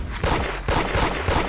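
Rapid gunfire in the Roblox game Da Hood, several loud close bursts of shots in quick succession with short gaps between volleys.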